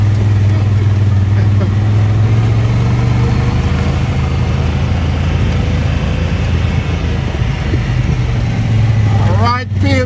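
An ATV engine running loud and steady on a night ride outside Houston, Texas, a constant low rumble throughout with a short rise in pitch near the end.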